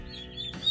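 A young goose named Bean, a gosling on a family homestead, gives short, shrill peeping calls that rise at the end, loud and close, with no one speaking.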